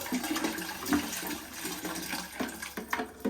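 Water is poured out of the tank of a Bissell Little Green ProHeat carpet cleaner, splashing and gurgling unevenly into a sink at close range.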